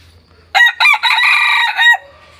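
A young red-plumaged Thai crossbred jungle-fowl decoy rooster crows loudly and close by, a strong cock-a-doodle-doo broken into a few bursts, with near silence before it.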